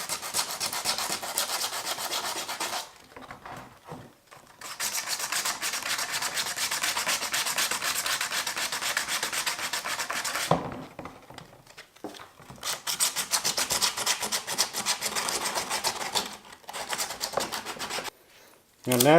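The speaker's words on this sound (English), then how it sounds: "wherever we're attaching straps is just sand it down, break up this shine, that way it'll give the epoxy a little bit to hold on to" Cosplay armor is hand-sanded to dull its shiny surface ahead of epoxy, a close, steady abrasive rubbing in long continuous bursts separated by brief pauses.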